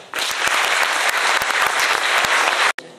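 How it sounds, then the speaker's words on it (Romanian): Audience applause at a dance festival, dense, close clapping that rises sharply, holds steady for nearly three seconds, then cuts off abruptly. "Vă rog să aplaudă."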